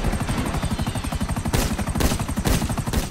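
A helicopter's rotor chops steadily throughout a GTA 5 scene while bursts of gunfire crack over it, the shots growing louder and denser in the second half.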